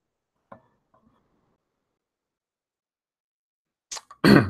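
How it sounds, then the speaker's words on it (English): A man clears his throat near a microphone during a live stream, a couple of faint short catches early on, then a louder pair of harsh bursts at the end. "all right, had to clear my throat there."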